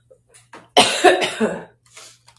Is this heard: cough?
yes